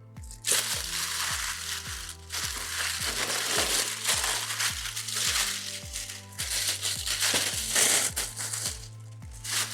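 Samsung's special packaging for a Galaxy Z Fold 6 being unwrapped up close: continuous loud crinkling, tearing and crushing of wrap and paper, with bursts of rustle throughout.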